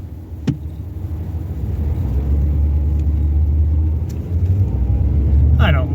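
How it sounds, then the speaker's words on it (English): Road traffic in Anchorage rolls past as a loud, steady low rumble of car engines and tyres, with a voice briefly heard over it. "Oh my goodness, the traffic."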